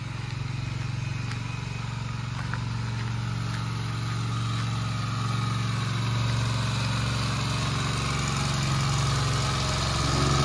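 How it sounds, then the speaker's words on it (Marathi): A tractor engine chugs steadily at a moderate distance while ploughing a field in a Konkan village, droning continuously with no one speaking. "नांगरणी चालू आहे, नांगरणी."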